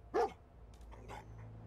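A dog barks in the video game Fallout 4: one sharp bark up front, then a couple of softer yips over a low ambient hum, no voices.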